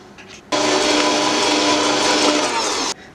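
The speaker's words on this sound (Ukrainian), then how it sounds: "тепер наше тісто я переношу в планетарій. Щоб ось такою насадочкою його трішечки помішаю, щоб воно остигло" A planetary stand mixer stirring warm choux pastry dough to cool it: a sudden loud, steady motor whine with a rhythmic mechanical hum runs for about two and a half seconds at close range, then cuts off abruptly.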